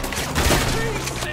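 Rapid gunfire in Red Dead Redemption 2 rattles loud and dense through a short battle, with shouting voices over the shots.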